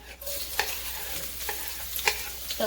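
Chopped leeks and fresh fennel sizzle in coconut oil in a pan, a close steady frying hiss broken by repeated scraping stirs.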